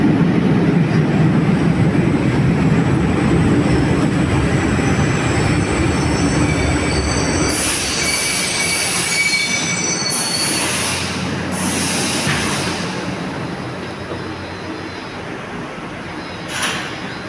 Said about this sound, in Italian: Questo treno insieme all'inverter sono i miei due treni preferiti.